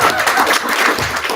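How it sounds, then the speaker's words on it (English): Conference audience applauding the participants at a final conference, a dense, steady wash of clapping filling the room, loud and sustained with no speech over it. "A big applause for all of you."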